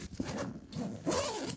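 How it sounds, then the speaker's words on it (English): A zipper on a travel backpack is pulled in two quick rasping strokes, close and fairly quiet, with a short pause between them and no speech. "2 zippers for each of these, and they're lockable"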